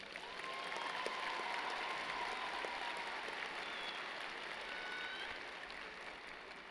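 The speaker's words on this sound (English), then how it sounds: "Let's go ahead and give them a round of applause." A large crowd at a December university commencement ceremony applauds for graduates in a dense, steady wash of clapping that stays fairly distant in the hall. Faint cheers rise here and there.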